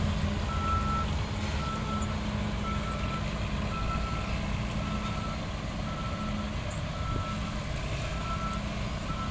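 A sugarcane harvester truck reverses, its backup alarm beeping in a steady, regular rhythm over a low continuous engine rumble, heard at moderate distance.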